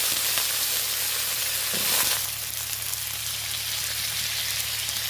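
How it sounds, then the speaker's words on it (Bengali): Small potatoes frying in oil in a wok with salt and turmeric give off a steady, dense sizzle that holds evenly from start to finish, close by and with no voices. "কড়াইতে তেল বসিয়েছি আর আলু তারপরে ছোটো ছোটো আলু নিয়েছি আলুগুলো লবণ হলুদ দিয়ে ভেজে নেবো"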